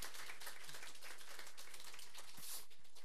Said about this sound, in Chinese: 我们是不是刚刚没有给这个罗老师一个掌声？